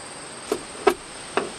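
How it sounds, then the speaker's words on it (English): Cured fiberglass resin on an 18-foot sailboat hull is shaved off by hand, giving three short, sharp scraping snaps spaced irregularly over a quiet background, close and distinct. "I can just shave it off."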